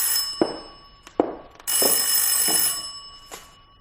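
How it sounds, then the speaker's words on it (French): A telephone rings in an old French radio mystery drama, a loud electric bell trilling in bursts with sharp clicks between them, a steady hum underneath and no talking. "C'est Madame Claudier qui téléphone, monsieur le commissaire"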